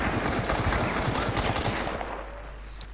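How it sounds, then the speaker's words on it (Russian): Automatic rifle fire in the video game Hunt: Showdown: dense, loud rapid bursts over the first two seconds, then easing off into a quieter rumble with one sharp crack near the end. "Автомат?"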